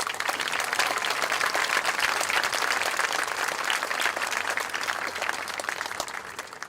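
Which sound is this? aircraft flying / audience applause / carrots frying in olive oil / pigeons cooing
audience applause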